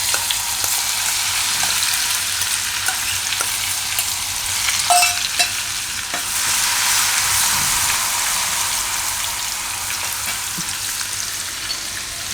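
Garlic and green chilies frying in hot oil with cumin seeds, a steady close hiss of sizzling with a few light clinks and stirring scrapes, no voices.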